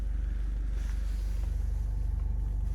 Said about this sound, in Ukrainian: Моторчик працює просто відмінно